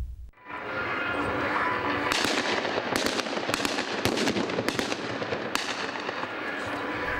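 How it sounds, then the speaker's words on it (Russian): Automatic rifle fire under a smoke screen during a military training camp for tenth-grade students on a parade ground, heard as a dense, loud stretch of sharp cracking bursts and pops in rapid clusters over continuous noise. "Стрельба из автомата под дымовой завесой"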